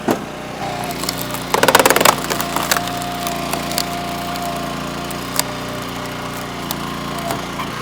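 A log splitter splits hickory firewood, with a steady engine drone underneath, a loud burst of cracking and splintering wood early on and scattered snaps and creaks afterward, with no talking.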